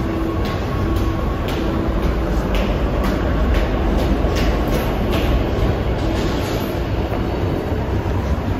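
Train passing through the underground platforms of Oslo S railway station, a steady loud rumble of wheels and carriages with rhythmic clicks, no talking.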